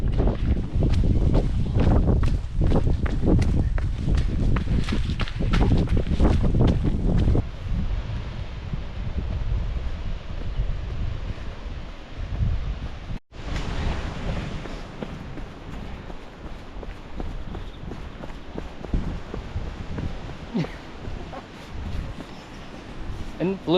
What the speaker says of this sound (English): raining and very windy, as you can probably hear